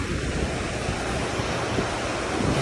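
Ocean waves wash onto the beach at Boracay as a constant, loud roar of surf with no breaks, blended with wind noise on the microphone and no voices.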